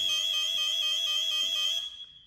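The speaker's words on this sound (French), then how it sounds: "pour que la sirène arrête de retentir, tout en sachant que la sirène monte à 105 décibels" A loud, piercing 105-decibel siren of a Qiara home alarm sounds steadily at close range, then cuts off abruptly and fades to quiet.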